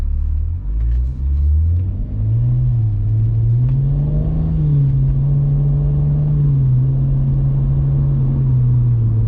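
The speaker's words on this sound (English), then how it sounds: "So that was a pretty good one running through the gears." Car fitted with an xHP-flashed 6HP automatic transmission accelerating through the gears, its engine drone rising and dropping at each shift as a loud steady rumble with no talking.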